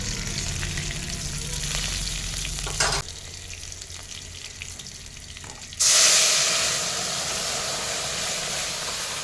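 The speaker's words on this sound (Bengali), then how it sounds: "তেলের মধ্যে আরও কিছুক্ষণ ফোড়নটা ফুটে উঠলেই সিদ্ধ করা ডালটা আমি ঢেলে দিব।" Spices sizzle and crackle in hot mustard oil for a Bengali moong dal tempering. A steady frying hiss drops briefly, then surges into a louder, brighter sizzle.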